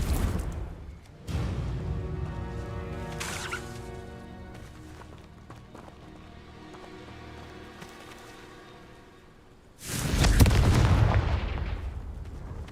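The Confringo blasting curse goes off in a Harry Potter video game as a loud, booming explosion near the end, after a sustained rumbling whoosh of spell energy.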